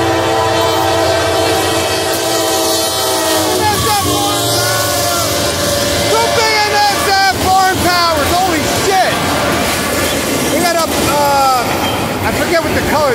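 Westbound BNSF freight train passing close with a steady rumble of rolling wagons and a horn sounding, while people talk excitedly over it.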